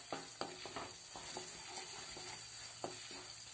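Turmeric being stirred into a hot oil tempering in a pan for temple-style pulihora, a soft continuous sizzle with a few light spoon scrapes, fairly quiet and close, no talking.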